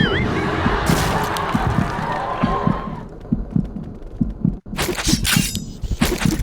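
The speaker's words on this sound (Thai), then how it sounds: "มันเสียงหัวใจเล่น" A heartbeat effect in a shotgun-focused shooter video game thumps in a steady, regular rhythm under dense game noise and loud effects, with a brief dropout near the end.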